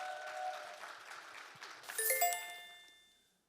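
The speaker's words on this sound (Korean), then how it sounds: "큰 박수 한번 부탁드리겠습니다" An audience claps in a seminar hall for a professor at a lifelong-education results-sharing event, with moderate steady applause that is partly masked by bright chime-like tones and then fades out.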